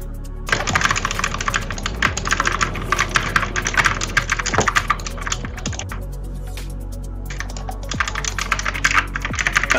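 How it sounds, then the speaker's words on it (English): Rapid, continuous clatter of keys typed on a loud computer keyboard during an online game raid, close and busy, with occasional heavier key strikes standing out. "Because it's pretty loud, the keyboard."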